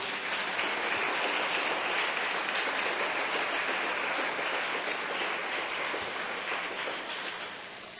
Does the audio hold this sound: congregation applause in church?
yes